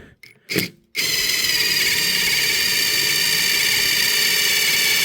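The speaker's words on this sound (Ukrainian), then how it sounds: "Щось з десятим свердлом не заладилось, попробую вісьмірочку." A few short bumps, then a power drill with an 8 mm bit starts and runs steadily at high speed, a loud continuous whine grinding into a hammer close by.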